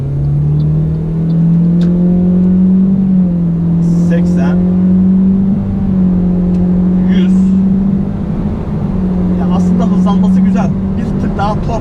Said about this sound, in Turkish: Şu an dip gaz yaptım arkadaşlar.